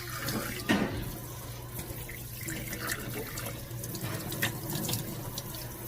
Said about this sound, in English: Here we're going to make sure the ackee is properly washed.